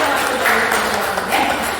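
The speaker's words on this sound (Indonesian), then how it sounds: "Tepuk tangan untuk Bapak dan Ibu" An audience of teachers applauds during a training session, a dense, continuous patter of many hands clapping at once, steady and moderately loud for under two seconds.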